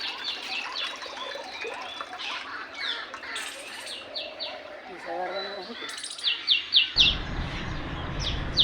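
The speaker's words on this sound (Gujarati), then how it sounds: "અને પંખીડા બોલે છે" Birds chirp and tweet steadily around a village Shitala Mata temple beside a dried-up riverbed, a busy mix of calls near and far, with quick repeated high tweets growing more prominent toward the end.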